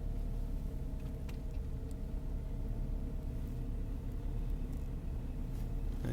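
A 2003 Saab 9-5 with a newly fitted engine idles on its first cold start, a steady low rumble holding even and continuous throughout, close by with no talking.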